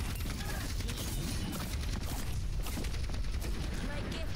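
Rapid gunfire in the video game Overwatch crackles in dense bursts amid clanking effects and a busy game soundscape, with a player's voice mixed in at times.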